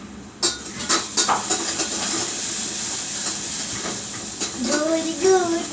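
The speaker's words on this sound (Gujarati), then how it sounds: "હવે આ ડુંગળી સોતે થાય છે." Onions sautéing in a pan while making bread pakoda, a steady sizzling hiss with occasional clinks of a spoon against the pan and brief voices underneath.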